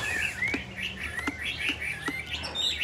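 A female Chinese hwamei bird calls in a string of clear, rising whistled chirps and short tweets, close and fairly loud, over a faint background hum with a few soft clicks.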